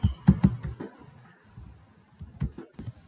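Typing on a computer keyboard, close and quiet, in short clustered bursts of clicks with pauses between them.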